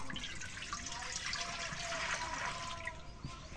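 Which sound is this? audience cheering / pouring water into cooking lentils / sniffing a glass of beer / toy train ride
pouring water into cooking lentils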